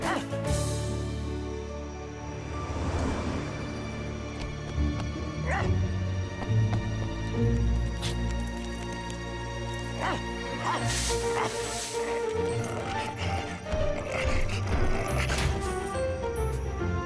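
A cartoon dog from the French-language Transformers Rescue Bots series barks and yips repeatedly over a busy animated soundtrack with music and effects, loud and close with short bursts throughout.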